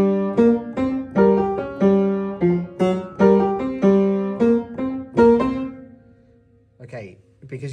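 A theme pattern is played at full speed on a keyboard in GarageBand: a steady, loud run of short repeating synth notes in a driving rhythm. It ends on a held note, then fades to near silence.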